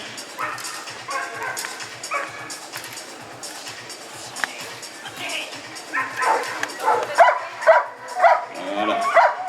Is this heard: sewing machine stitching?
no